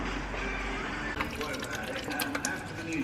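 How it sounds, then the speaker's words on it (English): Coolant drains from a Honda Civic EK radiator, a continuous close trickle and splash of liquid with small drips, with a voice speaking over it. "let's get to draining the coolant"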